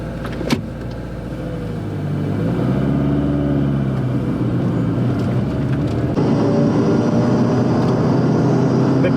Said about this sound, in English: let's go for a drive and actually show you guys how this car feels